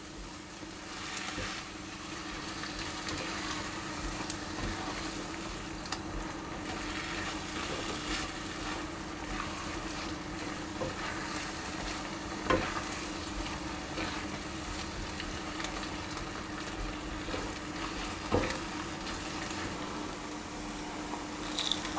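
Mushroom duxelles with cream cooks down in a pan, a soft continuous bubbling sizzle at moderate level with occasional faint scrapes of stirring, no voices.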